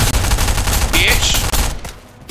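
Rapid gunfire in the video game Fortnite, a loud continuous burst of shots that fades out near the end, with a player's voice briefly audible underneath.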